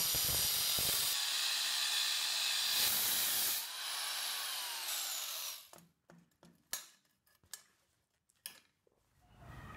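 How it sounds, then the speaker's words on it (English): A power cutting tool grinds through the welds on a steel bicycle frame during a drift trike build, a loud continuous screeching cut with pitch sweeps for about five seconds, then sharp clanks and scraping bursts as the metal is handled. "we're just going to come along here and cut these welds off"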